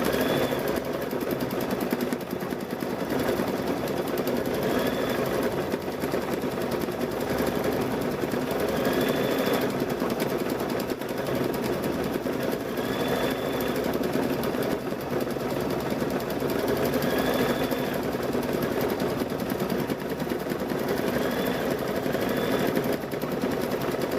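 A sewing machine stitches an apron in one long, loud, unbroken run with a dense, rapid mechanical chatter and a faint recurring squeak.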